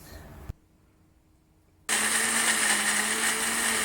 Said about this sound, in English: Add the chopped tomatoes and blend until it becomes a paste.